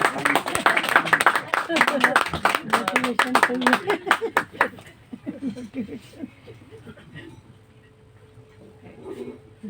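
An audience claps loudly at a gathering, a dense burst of applause over the first few seconds that then thins out and fades into scattered claps and murmuring voices.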